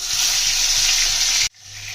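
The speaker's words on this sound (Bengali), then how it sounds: "তেল গরম হয়ে গেছে মাছগুলো ভেজে নেবো" Rohu fish frying in hot oil makes a loud, dense sizzle close by that cuts off abruptly after about a second and a half. A quieter sizzle returns underneath straight afterwards.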